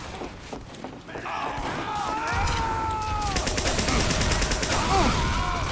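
Rapid weapon fire in a competitive video game, repeated shots and explosions from an RPG firing at an unusually fast rate, loud and busy with sweeping game effects throughout.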